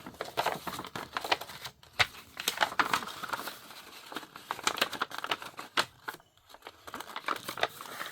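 Sheets of paper being folded and creased for a bordered-page craft project, giving a busy run of crisp crinkling, tapping and rustling bursts close to the mic with brief pauses between them, no talking.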